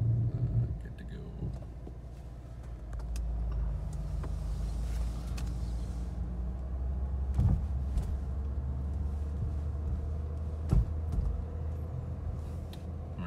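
A 1987 Mercedes-Benz 300E engine runs at a steady idle with a low, continuous hum and a few faint clicks over it, close by and even in level, with no talk.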